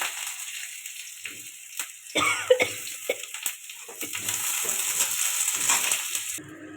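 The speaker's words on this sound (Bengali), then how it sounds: "শুকনো লঙ্কা ফোড়নে দিয়ে দিলাম, একটু রসুন থেতো দিয়ে দিলাম।" Dry red chillies, crushed garlic and onion fry in oil, making a soft, steady sizzle with a few sharper crackles and pops, fairly quiet and close.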